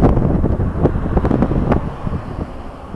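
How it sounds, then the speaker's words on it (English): Strong wind on a hilltop at the Binghamton University Nature Preserve buffets the microphone with loud, rumbling gusts that swell and ease over a few seconds, with no voices. "one of the windiest spots in Binghamton right here"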